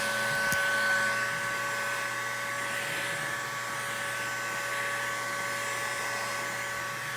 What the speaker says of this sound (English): don't be afraid to use the heat gun